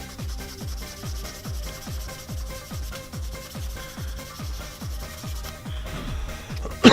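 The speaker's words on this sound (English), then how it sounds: "What you can do is you just go sanding on top." Sandpaper rubbed over styrene putty on a model kit at 240 grit, giving a steady series of about a dozen close rhythmic strokes, each a short scratchy rasp, with no talk over it.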